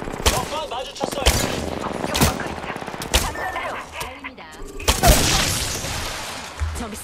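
Repeated gunshots and bursts of automatic fire in a video game firefight, sharp loud cracks recurring irregularly amid dense battle noise, with voices calling out in between.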